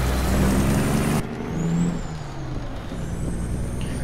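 A Cat C15 truck engine drones loudly in American Truck Simulator, then an air brake releases with a sharp hiss that cuts the roar, leaving a lower idle rumble with faint whining tones, no speech.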